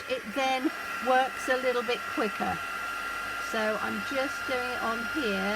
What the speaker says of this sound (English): And then I just need my heat tool, and I'm just going to heat that up a bit, so excuse the noise on there.